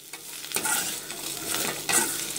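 Pepper chicken paste sautéing in a hot pan, a close continuous sizzle with a few scraping stirs of a spoon, brief and without any talking.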